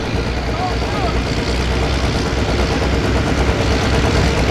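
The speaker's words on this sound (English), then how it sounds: "here's that tractor that I was talking about before. This is the Little Red Hooker" The Little Red Hooker, a pulling tractor at an 8,500 lb pulling event in Mound City, Missouri, roars with a heavy, steady engine drone that fills the whole stretch at high, unbroken loudness, with talk faintly mixed in.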